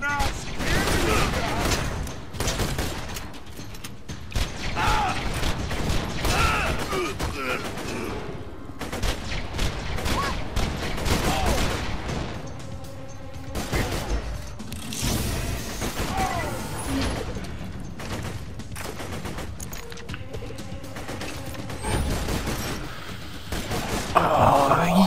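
Grenade explosions in Borderlands 2 keep going amid heavy gunfire, dense and loud all the way through, with talk faintly mixed in.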